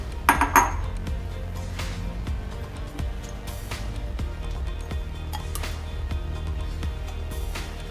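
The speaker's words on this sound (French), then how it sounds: "Mettre la crème et le beurre dans une casserole" Metal pots and utensils clink and clatter on a stovetop as cream and butter go into a saucepan, with sharp knocks early on and scattered taps after, no voices.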